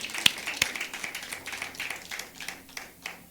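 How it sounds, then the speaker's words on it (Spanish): A church congregation claps, scattered sharp hand claps merging into brief, moderately close applause. "Alguien dele un aplauso a ese Rey de Reyes, al Señor de Señores."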